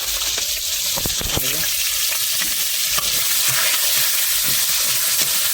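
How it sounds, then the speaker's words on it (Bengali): Potatoes, cut in large pieces, sizzle and fry steadily in a hot pan, with scraping stirs and a constant hiss throughout. "আলুগুলো এখন বেজে নেওয়া হবে এই যে বন্ধুরা এখন আলু দিয়ে নেওয়া হবে"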